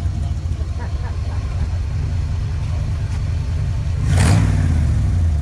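A car engine with side pipes rumbles steadily, low and throaty, then briefly revs louder near the end before settling.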